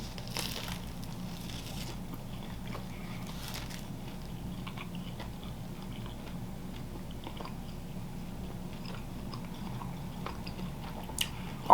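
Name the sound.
chewing crunchy Little Caesars Detroit style pizza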